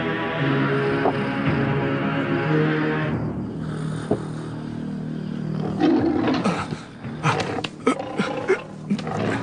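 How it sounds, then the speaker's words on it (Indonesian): A tiger's roar in a dramatized Indonesian folk tale, a deep rumbling growl under dramatic background music, then louder snarling bursts toward the end. "tiba-tiba ada suara harimau"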